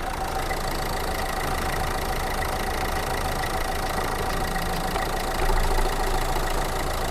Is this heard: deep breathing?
no